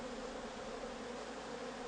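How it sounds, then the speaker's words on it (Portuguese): Bees work at a green-propolis hive box, a steady, dense buzzing drone that holds constant and close throughout. "as abelhas voltam a trabalhar para fechar o buraco"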